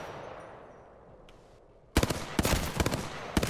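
A Hemlock rifle in a shooter game fires in burst mode after a quiet stretch, with loud, tightly grouped shots arriving in repeated bursts near the listener and no talking.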